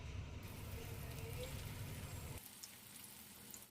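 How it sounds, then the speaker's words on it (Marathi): A second batch of vegetable tikki frying in oil, a steady hiss and sizzle that drops to a quieter level partway through, close-up with no talking. "आता सेकंड बॅच देखील आपल्याला पहिल्याप्रमाणेच व्यवस्थित तळून घ्यायचे आहे"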